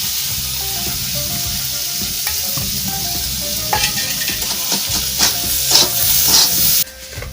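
Neem leaves fry in hot oil with a steady, close sizzle and crackle, while a spatula scrapes and stirs through them. The frying noise rises a little toward the end and then cuts off abruptly.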